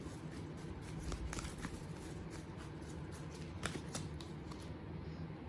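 Tarot cards being shuffled give a faint, steady papery riffling with light repeated flicks and snaps, heard softly against a hissy background.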